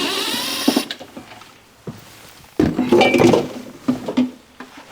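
Screws being removed from the crossover box on the back of a speaker enclosure, with clinks, scrapes and a short whirring burst of a tool, with loud sharp knocks in between.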